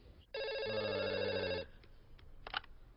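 A telephone rings with one long electronic trill burst, fairly faint, followed by a short click and a brief clatter, with no talking.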